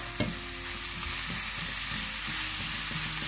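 Cod tipped into a pan of softened onion and pepper, sizzling loudly and steadily up close, with a sharp clatter at the start and stirring scrapes over the constant frying hiss.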